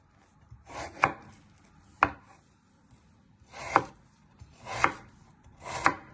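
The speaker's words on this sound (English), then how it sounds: "Next you're going to chop your potato down the middle" A knife chops through a starchy potato on a cutting board, five crisp, close thuds spaced about a second apart, each preceded by a faint rubbing slide of the blade.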